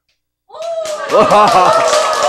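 After a moment of silence, a lecture audience bursts into cheering, with rising shouts from several voices and some clapping, loud and close.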